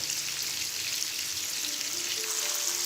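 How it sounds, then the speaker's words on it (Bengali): Hilsa fish pieces fry lightly in hot oil, making a steady, close, bright sizzle that carries evenly throughout with no voices. "তো দেখতে পাচ্ছেন আমি ইলিশ মাছটাকে হালকা করে ভেজে নিচ্ছি"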